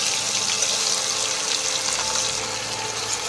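Chopped onion drops into tomatoes frying in a pan, giving a steady, close sizzle that holds evenly throughout without any voices.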